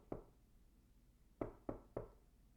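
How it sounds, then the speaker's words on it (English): Four dull knocks on a door or wall: one alone, then after a pause three more in a quick, fairly even sequence. The knocks sound close but muffled and soft, with no voices. "There's a thud, like someone knocking."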